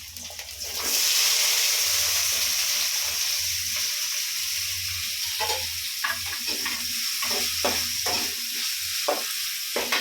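Garlic, onion, tomato and curry leaves fry in hot oil with mustard seeds in a pan on a home stove, giving a loud, steady sizzle throughout, with scraping stirs and clinks growing more frequent toward the end.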